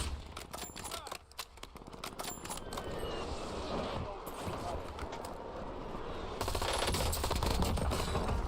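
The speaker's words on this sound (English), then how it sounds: "He's taking shots from below us." Rapid automatic gunfire and single shots crack through a Warzone match, with bursts loudest at first and then settling into continuous battle noise, while a player talks over the action.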